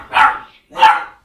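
Two sharp, loud barks from a dog, about half a second apart, each short and clear with nothing behind them.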